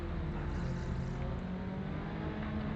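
Tatuus single-seater race car engines rev steadily on the grid at Brands Hatch, a dense, continuous engine roar at moderate distance with no speech.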